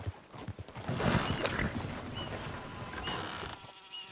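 Horse hooves clip-clop at a steady walking pace in Red Dead Redemption 2, fairly close, over a bed of buzzing insects and ambient game sound, with no talking.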